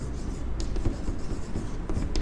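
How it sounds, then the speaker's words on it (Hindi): Writing on a classroom board during a math lesson: faint scratchy strokes and light taps, close but low in level, in short irregular bursts. "तो मैं यहाँ पे लिखता हूँ"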